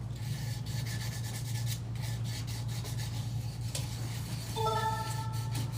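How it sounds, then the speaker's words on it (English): Steady rasping rub of sanding epoxy on a 20oz glitter tumbler, continuous and close, with a faint background hum and a few light clinks near the end. "when I'm sanding, I'm just checking every so often to see how it feels"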